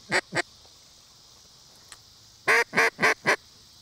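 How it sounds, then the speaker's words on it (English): A hand-blown duck call gives two short quacks, then after a pause a rapid run of four loud quacks, used as a distraction during retriever dog training near a layout blind, with quiet background. "you can begin adding distractions like duck calls"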